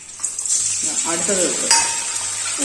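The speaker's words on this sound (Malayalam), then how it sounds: "എണ്ണയൊക്കെ ചെറുതായിട്ട് ചൂടായി വന്നിട്ടുണ്ട് അപ്പോഴത്തേക്ക് ഒരു മുട്ട ഇട്ടു" An egg dropped into lightly heated oil sizzles steadily in a pan, with a soft crackle and a metallic clink, while a person talks nearby over the frying.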